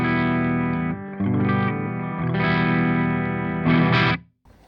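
An electric guitar through an ENGL E670 Special Edition amp on its clean channel rings out in sustained chords, several held strums with rich harmonics, the last one cut off abruptly into near silence.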